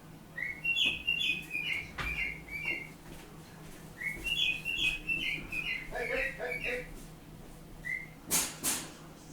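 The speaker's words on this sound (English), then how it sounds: "A couple of cockatiels, sometimes you've got to shout to tell them to keep quiet in the background." Pet cockatiels chirp and whistle in short repeated bursts, calling back and forth across the room at moderate distance, with a few sharper squawks near the end; indoor hum beneath, no clear talking.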